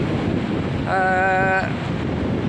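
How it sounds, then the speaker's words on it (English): Strong wind buffets the microphone on a breezy coastal clifftop path, a loud continuous rushing roar with a brief tonal sound rising in the middle. "It's a little bit breezy, and I don't really want to fall to my death this early on."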